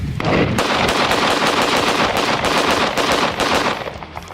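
A Ruger 57 pistol fires 5.7 rounds outdoors in the desert in a fast, loud, continuous string of sharp shots that lasts about four seconds before fading out.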